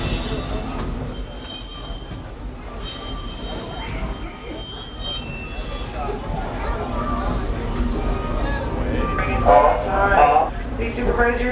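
A Walt Disney World Railroad train rumbles steadily along the rails with loud, high-pitched wheel squeals throughout, close and continuous, a voice talking faintly underneath.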